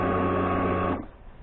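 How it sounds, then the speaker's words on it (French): The electric fuel pump of a 2014 Kawasaki Brute Force 750 (KVF 750) ATV primes with a steady, close buzzing whine. The whine cuts off abruptly after about a second, leaving quiet background. "vous allez entendre la pompe à essence"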